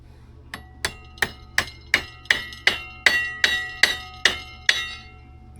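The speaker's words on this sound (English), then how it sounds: "Where is my little tapping hammer?" A small tapping hammer strikes metal snowmobile clutch parts on a vintage Snojet during race prep, giving about a dozen sharp, ringing metallic taps at a steady rhythm, close and clear with no talk.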